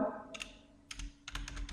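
Keys on a computer keyboard are tapped while an Excel function is typed, in three quick bursts of close, crisp clicks with short pauses between them and no talk.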